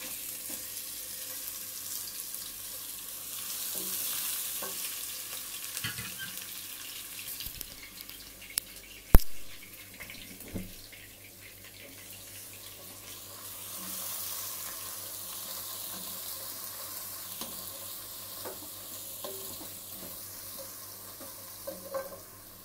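Garlic ginger paste fries with browned onions and cumin in a pan, a low continuous sizzle with stirring scrapes and a sharp clatter midway, plus some running water in the background and no talking.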